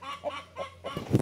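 A hen of a breed sold as Rhode Island Red clucks in a few short, close bursts, one after another, with no talk over it.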